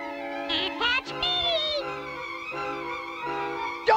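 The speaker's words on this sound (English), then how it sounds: "Oh, the kitty wanna play?" Cartoon cat meowing, a series of high, bending meows and short yowls close up, with a brief voice near the end.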